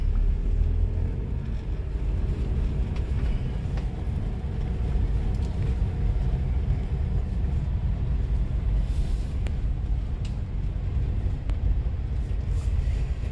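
A car driven by a learner shifting from first to second gear, heard as a continuous low engine rumble and road drone from inside the cabin, steady and fairly loud throughout.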